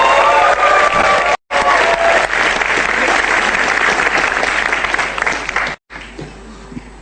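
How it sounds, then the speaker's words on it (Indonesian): An audience at a stand up comedy show breaks into loud, sustained applause with some cheering, a dense crowd clatter that fades and briefly cuts out near the end. "Kalau begitu boleh tepuk tangan untuk Cah Lontong."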